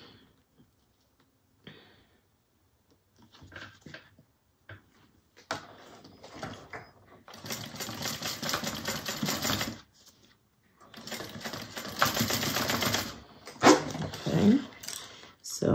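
A sewing machine stitches a zipper tab in bursts, its fast rattling hum running for a few seconds at a time between pauses, fairly close and moderately loud.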